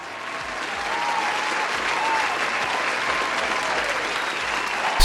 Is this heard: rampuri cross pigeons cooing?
no